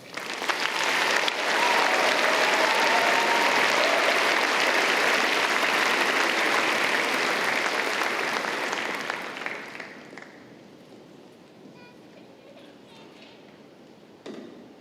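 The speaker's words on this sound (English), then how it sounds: "Let's have another round of applause for your valedictorian." Graduation ceremony audience for the Waterloo Faculty of Science gives sustained, loud applause for ten seconds, then fades to sparse, quieter claps and a few stray sounds.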